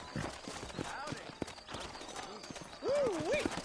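Horse hooves clip-clop at a steady trot in the video game Red Dead Redemption, a quick, even rhythm close by, with voices talking over it and a short rising and falling whinny near the end.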